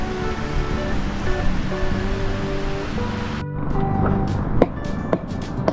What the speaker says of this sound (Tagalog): Grabe, sobrang tahimik dito. Tubig lang sa ilog maririnig mo.